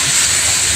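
Ground beef sizzles in a hot pan as it is added for a home-cooked beef giniling and vegetable dish, a steady, loud, bright hiss with no voices over it.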